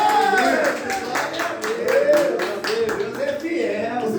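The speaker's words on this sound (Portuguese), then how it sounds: "Vamos aplaudir Jesus." A church congregation applauds during a Portuguese-language service, a burst of rhythmic clapping blended with voices and shouts of praise throughout.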